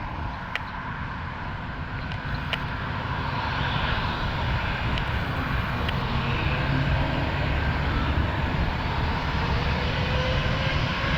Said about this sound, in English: Got here just in time to catch this JetBlue A220 taking off. And I heard the classic howl that these make.